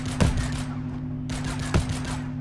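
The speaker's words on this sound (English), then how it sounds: "I'm going to shoot you on the fly." Gunfire in a survival train video game, two loud separate gunshot bursts about a second and a half apart, each with a rattling tail over a steady engine hum.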